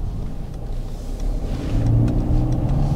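A 2017 Mercedes C 220 d estate's diesel engine accelerating in comfort mode, a low rumble swelling into a louder steady drone as revs rise, heard from inside the car with no talk.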